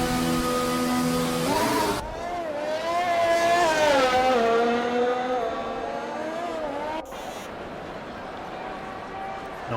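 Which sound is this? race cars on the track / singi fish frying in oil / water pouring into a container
race cars on the track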